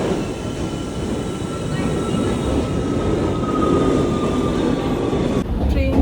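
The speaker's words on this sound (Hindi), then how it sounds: "ट्रेन चल रही है एंड हम जा रहे हैं ऊपर वेंगन" Train climbing from Lauterbrunnen up to Wengen in the Swiss mountains, a steady loud rumble and rolling rail noise heard from inside the car, continuous throughout with a faint high whine and a brief shift in tone near the end.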